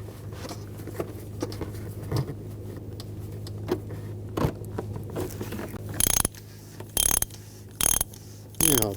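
A ratchet tightens a new oil filter on a 2000-2006 BMW X5 3.0L inline-six, giving several close, distinct bursts of rapid clicking separated by pauses, over a steady low hum and earlier faint mechanical clatter.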